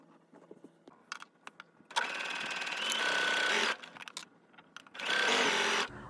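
A sewing machine stitches the edge of a color-block shirt collar, running in two steady whirring bursts of a second or two each, close and clear, with a few faint clicks and handling taps between.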